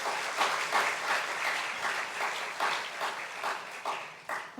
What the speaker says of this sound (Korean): 박수 한번 해보세요.